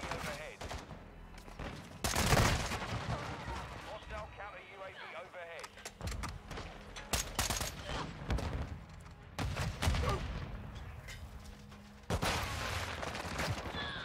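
Gunfire in a first-person shooter game, with bursts and single shots of a semi-automatic gun and loud crashing bangs at irregular intervals, mixed with game sounds and a player talking over it.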